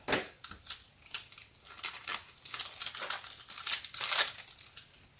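Scissors snipping and crinkling through the plastic of a sealed package from a Temu haul, a series of sharp crackly rustles and cuts in uneven bursts, close by with no talking.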